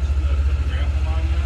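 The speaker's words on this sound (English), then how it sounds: "I just started the tractor a minute ago." An LS tractor engine idles close by in the woods, a low steady throbbing pulse with a faint rattle, running alone without talk.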